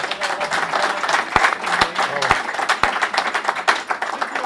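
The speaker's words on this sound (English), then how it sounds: "So a big round of applause for our English visitors." An audience at a Burns Club event claps for visiting guests, with dense close hand claps and some louder individual slaps mixed with voices.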